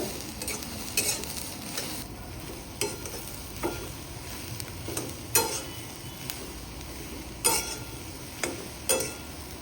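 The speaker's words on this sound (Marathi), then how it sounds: "मी एक वर शेंगदाणे पण यासोबतच भाजणार आहे" Okra and peanuts roast together in a pan with little or no oil, a faint dry sizzle broken by regular sharp clicks and scrapes of stirring throughout.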